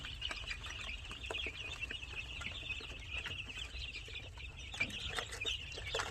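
Tiger breed chickens and chicks cluck and peep continuously at a modest distance, a busy mix of soft clucks and high chirps over low background rumble.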